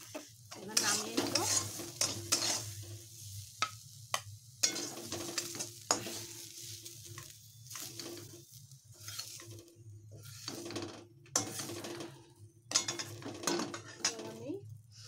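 Fried potatoes in a pan being stirred and lifted out, sharp metal spatula scrapes and clinks in irregular bursts over a low sizzle, close and fairly loud.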